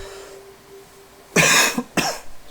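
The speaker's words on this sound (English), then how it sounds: "Excuse me for the cough." Two harsh coughs from a man, close and loud, one after a quiet pause and a second shorter burst soon after.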